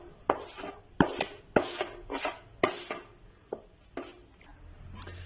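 Knife chopping boiled eggs on a board for egg and mayo sandwiches: about a dozen crisp, irregular thuds in quick bursts, close and clear with no talk.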